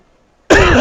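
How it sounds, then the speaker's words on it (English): A single loud, sharp cough bursts out close to the microphone after a moment of silence and carries on into a rough throat-clearing rasp. "That loud-ass cough is sure to make the cut there."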